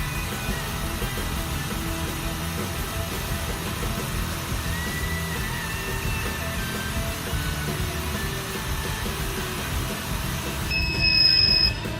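A GDI gasoline injector test bench drives the injector sequentially and accelerates continuously to 4000 RPM, producing a steady dense mechanical whir with faint shifting tones and a brief louder burst near the end.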